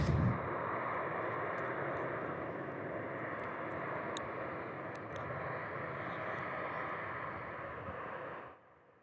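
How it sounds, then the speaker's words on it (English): Uzbekistan Airways airliner coming in to land at Seoul Incheon Airport: a loud, broad engine roar holds steady across the pass, then fades away abruptly near the end. "Uzbekistan Airways coming in."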